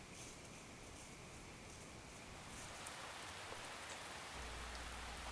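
Steady rain falls through a dark forest on Vancouver Island by a beaver dam, a dense, even patter of drops on leaves and surfaces, soft and continuous throughout.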